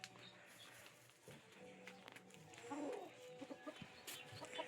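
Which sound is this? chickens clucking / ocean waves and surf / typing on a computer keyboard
chickens clucking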